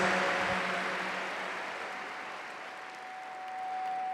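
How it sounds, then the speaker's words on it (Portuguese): A church congregation applauds the women present during a Catholic priest's talk. The clapping is soft and distant, a steady wash of hands that fades slightly and then swells again. "Vamos aplaudir as mulheres, gente? Vamos aplaudir com força."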